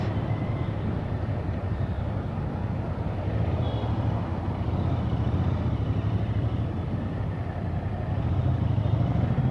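A Royal Enfield Interceptor 650 motorcycle cruises in third gear, its steady low engine drone and wind rush continuous and even throughout.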